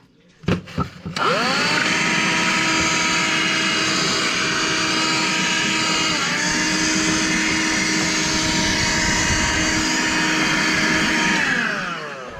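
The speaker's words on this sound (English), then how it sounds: "just vacuum up basically everything that is here." A handheld dust buster vacuum cleans out an electrical wall box. It clicks on, then spins up to a loud, steady whine with droning tones, dips briefly midway and runs on before winding down.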